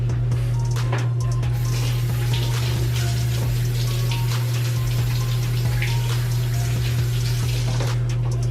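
Hot water runs steadily from a kitchen tap, a continuous close rushing splash with a low humming undertone throughout and no talking.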